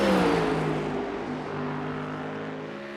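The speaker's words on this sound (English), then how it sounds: "And from out of the car, it sounds like this." A race car engine in iRacing heard from outside the car, starting loud with a falling pitch as it passes, then settling into a steady lower hum.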